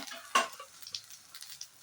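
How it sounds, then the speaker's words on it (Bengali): Okra being stirred and fried in a pan gives a soft, steady sizzle near the microphone, with a sharp scrape of the spatula and lighter clinks of stirring, and no talking. "ঢ্যাঁড়সটি 2-3 মিনিট নাড়তে হবে।"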